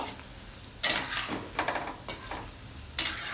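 Kofta balls fry in hot oil in a pan, giving a soft steady sizzle broken by a few sharp scraping clatters as they are pushed aside and stirred.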